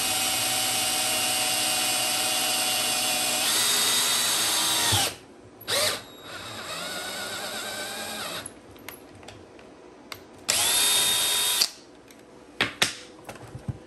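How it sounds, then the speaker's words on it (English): A drill press bores holes in battery connection hardware for a LiFePO4 setup, whirring steadily and loudly in long runs. It stops and restarts several times between holes, with no talking. "pre-drilling a hole in these with the bench press to make this a lot easier"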